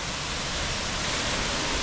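Gorjuda waterfall on the north side of Kanin, just across the Slovenian border, pours as a steady, dense broadband roar, close and unbroken, with no voices over it.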